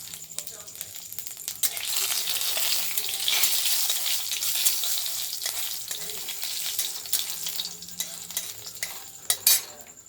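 Bay leaf and panch phoron spices frying in hot oil in a kadai: a dense, steady hiss of sizzling oil swells and fades, with a few sharp utensil clinks near the end, close by and without speech.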